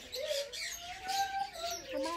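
Many birds chirp, tweet and coo inside an aviary cage at a pet sanctuary, overlapping calls rising and falling at close range.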